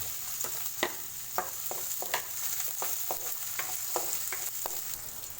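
Onion and garlic sauté in a pan for a soup, giving a steady soft sizzle broken by repeated sharp stirring scrapes, close and fairly quiet, with no talk.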